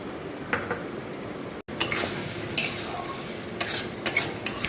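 Ground poppy seed, mustard and sesame paste, mixed with a little salt and green chilli, is stirred in a hot pan: a steady close sizzle with scraping spoon strokes and light metallic clinks, briefly interrupted.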